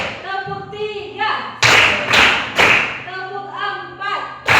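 A classroom of students claps in counted bursts on cue, with three loud, short clusters of claps separated by a teacher's voice giving instructions between them.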